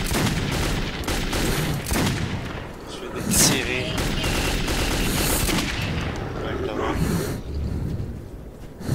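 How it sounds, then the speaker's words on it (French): Gunfire rattles through a tunnel fight in the video game Metro 2033 on Ranger Hardcore difficulty, dense bursts of shots and loud cracks over a rumbling background, with a voice speaking between them. "Je vais tirer."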